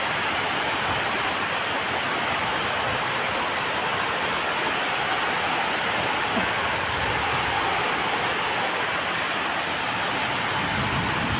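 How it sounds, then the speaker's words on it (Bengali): Heavy rain pours down steadily in a dense, continuous roar, close and loud throughout with no voices. "কি হারে বৃষ্টি হচ্ছে।"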